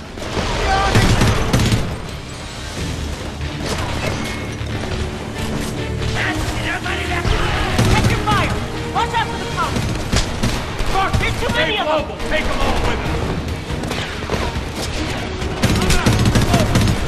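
Heavy gunfire in the Homefront video game: dense fusillades of rifle and machine-gun shots with explosive booms and crashes, loud and continuous, with shouted voices mixed into the battle.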